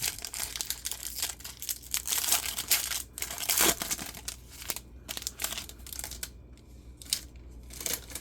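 Foil trading card pack torn open by hand, a pack of unlicensed cards, with crinkling and crumpling bursts close by and rustling in short irregular waves, no talking.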